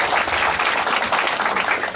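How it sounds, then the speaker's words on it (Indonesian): A crowd claps steadily in dense, even applause for two seconds without pause, with no voices over it. "Ya, tepuk tangan buat Tuhan ini."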